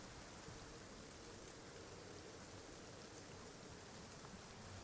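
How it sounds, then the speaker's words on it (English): Soft, steady patter of light rain with a gentle wind, a faint and even hiss throughout, with no voices. "Start with a little bit of wind, a little bit of rain."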